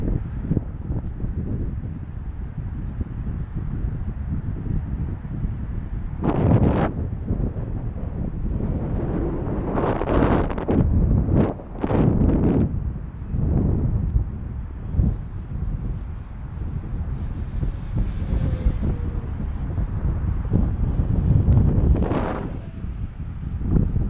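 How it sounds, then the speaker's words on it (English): Wind roars steadily past a P-51D Mustang in flight, a loud continuous rush with engine drone beneath and several gustier surges along the way, no voices heard. "Wind blowing around."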